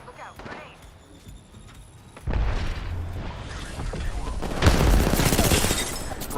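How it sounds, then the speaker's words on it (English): A grenade goes off in a squad-based video game shooter; a first blast lands at mid-clip, followed by a louder, closer explosion with gunfire rumbling around it. "Look out, grenade."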